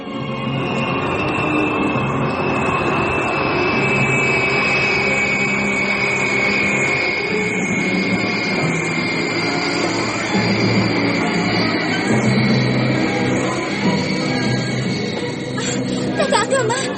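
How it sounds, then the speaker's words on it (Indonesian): A giant bell-shaped aircraft sweeps in to attack, rendered as a loud, continuous roaring engine drone with a high whine, while voices speak excitedly over it throughout. "Kakak Akama, pesawat itu datang. Awas, serangan pesawat"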